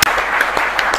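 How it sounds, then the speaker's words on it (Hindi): Audience applause at a Hindi poetry recital by Kavi Chetan Nitin Khare, a dense, steady burst of clapping filling the whole second with a few sharper individual claps standing out. "आपकी तालियों का आशीर्वाद मिला"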